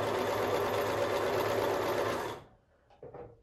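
A Pfaff Select 3.0 sewing machine stitching a straight stitch with the needle centered: a steady, loud, even mechanical whirr that runs continuously, then stops abruptly, leaving faint handling clicks.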